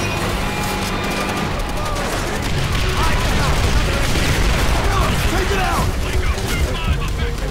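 Call of Duty: World at War battle on Xbox One, heavy gunfire and explosions blending into a constant loud, dense wash of shots and booms with no pauses, voices mixed in beneath.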